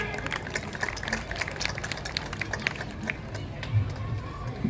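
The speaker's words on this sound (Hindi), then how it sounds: "आनंदी गोपाल जोशी जी का ताली के साथ स्वागत है" Audience applause welcoming a costumed student performer at an RK Academy school programme, a busy clatter of clapping from a crowd with occasional murmurs.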